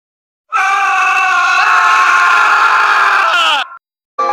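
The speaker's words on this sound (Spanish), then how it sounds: "cuando escuché gritos." A crowd of people screaming together as a horror sound effect in a creepypasta narration, a loud sustained chorus of shrill cries lasting about three seconds before cutting off abruptly.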